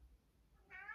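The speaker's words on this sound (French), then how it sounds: "ça c'est le chat qui a envie de rentrer comme d'habitude" A cat meows to be let in: after near silence, one short, clear meow rises at the very end.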